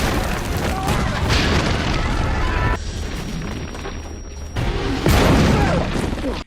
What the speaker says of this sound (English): German bomber planes arrive and drop bombs that destroy their camp.